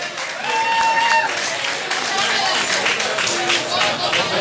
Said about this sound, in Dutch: Dus groot applaus ook voor Thijs.